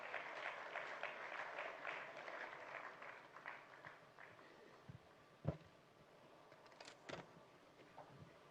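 An audience applauds at a formal security event with former presidents and military chiefs, a broad, fairly faint patter of clapping that thins out over several seconds, with a few knocks and shuffles near the end.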